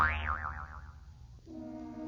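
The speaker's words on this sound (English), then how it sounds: "I've taken another bounce on my arrow hop" Cartoon boing sound effect of a bounce on a hop toy, a springy wobbling tone that warbles several times and fades, followed by a steady tonal hum.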